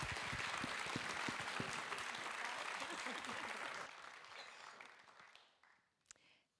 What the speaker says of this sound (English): So please, let's give them a round of applause as they leave the stage.